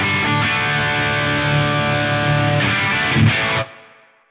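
Distorted electric guitar through a Meris Mercury 7 reverb set with pre-delay, a sustained dirty tone whose wash of ambience holds steady, swells briefly near the end, then cuts off and decays into a short reverb tail.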